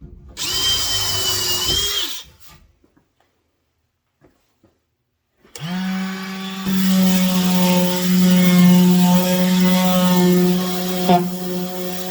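A power drill whines in a short burst, stops for a few seconds of silence, then runs again longer at a steady, lower pitch as it drives a countersunk screw into MDF.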